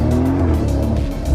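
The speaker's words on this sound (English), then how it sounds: "It's not the brightest color Urus, but it's very loud, that's for sure." A Lamborghini Urus accelerates hard, its loud engine roaring up in pitch with a rising whine, close and continuous with no talk.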